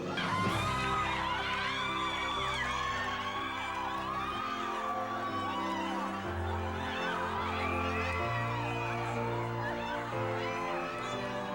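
Women at a glamorous gala ball scream and cheer in a loud, sustained burst as they open gift boxes to find earrings, with excited whoops and overlapping voices throughout.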